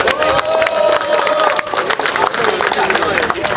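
Audience applause at a closure agreement signing ceremony in Yongsan, steady clapping and crowd noise throughout, with some cheering and voices mixed in.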